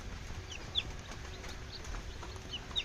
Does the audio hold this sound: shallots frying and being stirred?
no